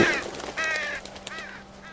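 Crows caw several times in a snowy, windswept outdoor scene from The Walking Dead Season 2 video game, harsh calls spaced across two seconds over a low steady hum.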